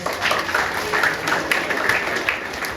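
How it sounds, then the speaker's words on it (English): An audience gives a round of applause, a steady wash of dense hand clapping at moderate volume with no voices over it, lasting a few seconds. "Give Paul a big round of applause"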